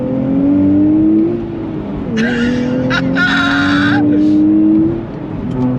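A 2024 Nissan Fairlady Z with a manual transmission pulls hard in second gear from about 2,500 RPM. The engine note rises steadily and loudly, dips briefly with a shift, then climbs again with a sharp, whining overtone close by.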